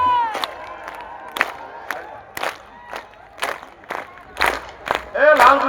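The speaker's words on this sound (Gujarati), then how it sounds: "બે હાથ ઊંચા કરી હાલો તાળી." Large outdoor crowd at a Gujarati dayro folk music event in Godhra, clapping in rhythmic bursts and cheering loudly, with shouts and voices rising and swelling toward the end.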